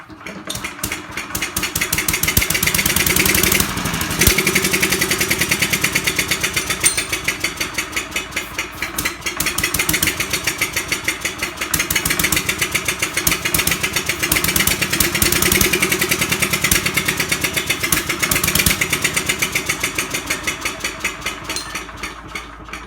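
A 1939 Fairbanks Morse ZD engine is cranked in a cold start attempt, producing a loud, continuous fast mechanical chugging with a steady rhythm that swells and eases over about twenty seconds, close up and alone.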